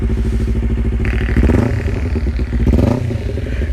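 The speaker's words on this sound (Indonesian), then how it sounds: "Ya ini auto warm up, jadi gua nggak gas," Honda CBR250RR engine revving on its own during an automatic warm-up run by an MBR Tech module, the sports bike's twin rising and falling through a couple of loud, steady surges with no throttle input.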